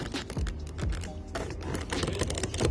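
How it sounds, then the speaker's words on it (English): Plastic trim clips snapping and creaking as a trim tool pries the front passenger door panel off a 2015 Chevrolet Tahoe, a dense run of close clicks and pops lasting a few seconds with no talking. "next thing we're gonna do is we're gonna pop this open with a trim tool."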